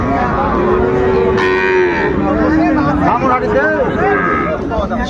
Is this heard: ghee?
no